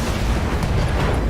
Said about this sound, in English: Got an explosion on him. That's what the SRMs are for.